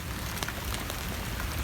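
Steady rain falls on an allotment with tomato plants, a dense, even patter of drops close by with no voices.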